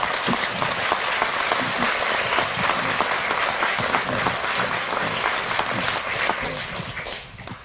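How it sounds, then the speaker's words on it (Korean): A lecture audience in Seoul gives loud, sustained applause to welcome the sociologist Ulrich Beck, a dense crackling wash of many hands that stays strong throughout before easing slightly at the end. "여러분 큰 박수로 다시 한번 좀 환영의 뜻을 보여주십시오"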